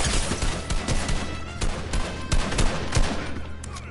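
Rapid video-game gunfire crackles in quick bursts of sharp, loud shots, with brief pauses between volleys and no talk over it.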